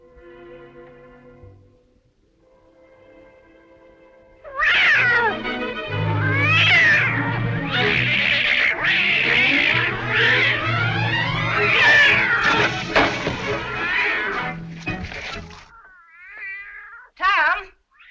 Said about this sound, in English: What on earth ails that cat?